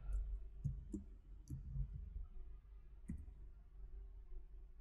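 Mouse clicks on a computer while setting up a new channel on a website, several short sharp clicks spaced irregularly, close and quiet with no talking.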